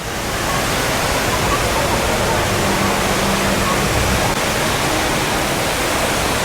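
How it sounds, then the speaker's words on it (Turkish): A large artificial waterfall dropping from 40 metres, heard as a steady, loud, broad rushing roar of falling water that fills the scene without a break, with faint voices beneath it. "Belki de dünyanın en büyük yapay şelalelerinden bir tanesini görüyorsunuz karşımda."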